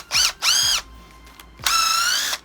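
A Hitachi 18V cordless drill spins up in three loud, whining bursts with a gritty hammering edge, the last burst held longest, separated by brief quiet gaps with no talk.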